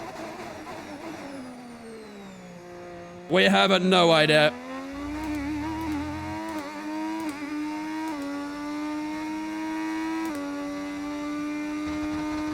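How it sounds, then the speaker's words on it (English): Retro 1986 V6 Formula 1 car engine in the F1 25 racing game: a sustained, rising and falling drone with a brief burst of louder noise, heard under someone talking. "What's the car sound? It sounds insane."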